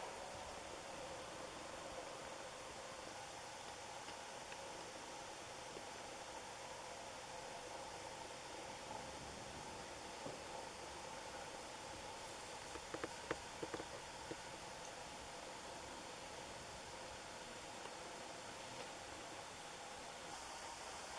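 A 2008 Casablanca Panama II ceiling fan with an XLP 2000 motor runs at a faint, steady hush with a soft hum, broken by a few tiny clicks near the middle.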